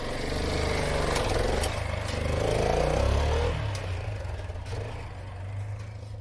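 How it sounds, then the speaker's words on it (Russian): A motorcycle engine runs steadily in underground catacomb tunnels, a loud low rumble that swells and eases slightly as it revs, with faint voices in the background. "Блин, мотоцикл хороший."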